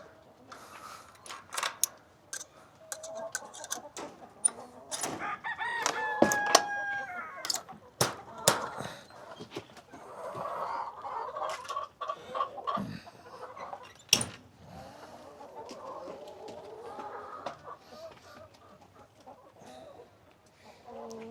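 A rooster on a farm crows and clucks in repeated loud bursts with quieter clucking between, while a person talks nearby.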